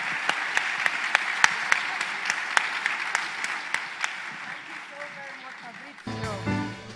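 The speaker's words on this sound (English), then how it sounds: "A big applause for this amazing group of leaders." A summit audience in Jamaica applauds a group of leaders with loud, sustained clapping and sharp individual claps standing out, fading near the end as a voice begins to speak.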